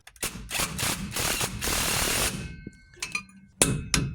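A ratchet tightening the rear shock bolt on a Ford F150: several loud bursts of rapid clicking close up, then a pause and a few separate sharp clicks and knocks.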